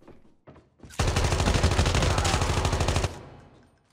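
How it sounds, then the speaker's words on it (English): Sustained burst of automatic gunfire in the mobile shooter Call of Duty Mobile, a couple of short shots first, then about two seconds of loud, rapid continuous fire that stops abruptly. "Saw a guy shooting across the way."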